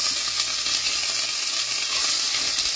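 Two lengths of sausage fry in a pan as their fat renders, giving a steady, close, bright sizzle with fine crackling that runs unbroken throughout, with no talking.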